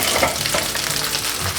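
Noodle sausage fries loudly in a pan, a close, continuous crackling sizzle with soft spatula stirring underneath.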